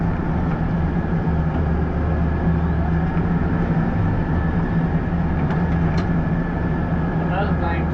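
Massey Ferguson 4707 tractor pulling a 15ft Batwing mower on flat ground, a continuous close diesel engine drone with steady low hum and mower rumble, a voice faintly talking over it.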